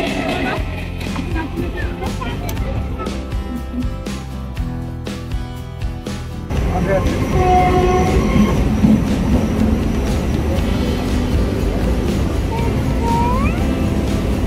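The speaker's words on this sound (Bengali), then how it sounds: "লোকাল ট্রেন যাচ্ছে।" A local train running near Darjeeling, heard close and loud as a steady rumble with rhythmic clacking wheels and occasional squeals, while people talk over it.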